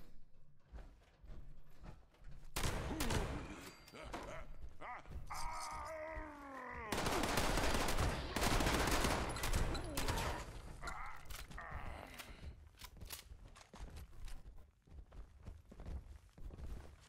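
Gunfire in the video game Fallout 76 comes in loud, rapid bursts and volleys mixed with other game effects, quieter stretches between, and a voice heard talking now and then.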